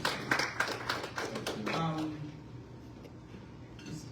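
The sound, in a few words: audience applause for panel coordinator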